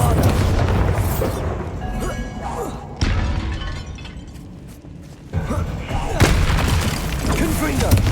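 Bombarda blasting spell from Hogwarts Legacy, a booming magical explosion with mechanical rumble and shattering debris, loud and dense, with several heavy impacts repeating over a constant game soundscape.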